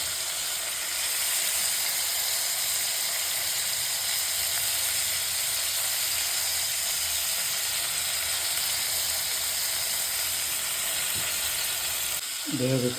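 Curry leaves sizzle and crackle in hot oil in a pan during cooking of a drumstick soup, a steady close, bright hiss continuing throughout, with a voice cutting in briefly at the end.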